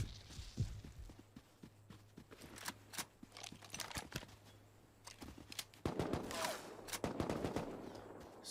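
Gunfire in the video game Rust crackles as sharp, scattered shots at a distance, some in quick bursts, over a steady low hum and shuffling movement, with a denser rustling stretch toward the end.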